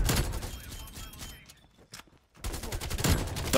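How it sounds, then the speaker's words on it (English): Krig 6 assault rifle fire in the video game Black Ops Cold War, dense rapid bursts at the start and end with a brief lull between them, loud and close. "I'm shooting so many bullets and not getting kills."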